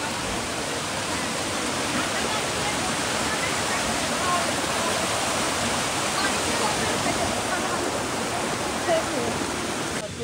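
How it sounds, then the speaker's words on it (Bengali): Bamni Falls in Purulia roars as a loud, unbroken broadband rush of falling water, steady and close from start to finish with no break. "দেখো ঝর্ণার কি আওয়াজ জোরে।"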